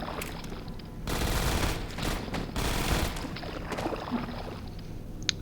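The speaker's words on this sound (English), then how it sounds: "Please shoot. Come on, shoot. Open fire." Gunfire from Alyx in the video game Half-Life 2 Episode One, heard as two dense, rattling bursts of rapid shots with a few scattered quieter pops between and after them.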